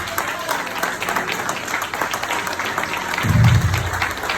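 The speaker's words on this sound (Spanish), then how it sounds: "Dame un aplauso al Señor." A church congregation applauds during a Spanish-language service, with steady, continuous clapping at moderate loudness and a low rumble swelling near the end.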